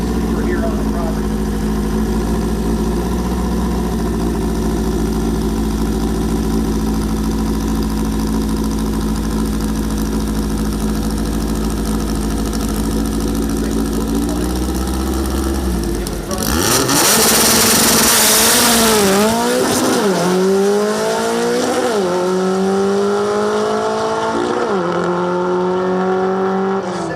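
An air-cooled VW Beetle drag racing engine idles with a loud, deep steady rumble, then barks and revs sharply in rising and falling bursts at a drag strip, with a voice talking over it.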